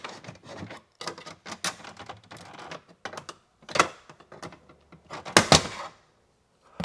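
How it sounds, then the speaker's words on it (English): Plastic side trim piece on a Range Rover Sport L494 being popped off with a trim tool inside the cabin, giving a series of close, sharp clicks and snaps with scraping and rubbing between them, no talking. "Use our trim tool. We're gonna pop this this little side piece off."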